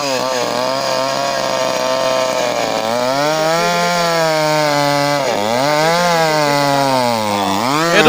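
Chainsaw cutting through a tree trunk, the engine holding a loud, continuous whine that dips and rises in pitch as the blade bites into the wood.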